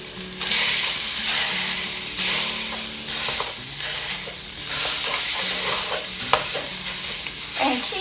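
Breakfast sausage with Italian seasoning sizzles steadily in a pan with no oil, a close, continuous frying hiss broken by occasional stirring scrapes and soft pops.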